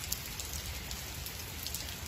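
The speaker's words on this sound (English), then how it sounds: "Wait for the rain to pass." Steady rain falls over a traditional garden in Naha, Okinawa, making an even, close hiss of drops on surfaces that continues without a break, with no voices.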